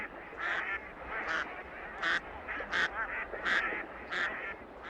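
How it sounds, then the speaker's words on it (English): Wild geese and ducks at a marsh give repeated honking calls in an uneven rhythm, about eight or nine clear honks over a soft background, fairly close and with no voices. "Ducks and geese are among nature's most beautiful creatures."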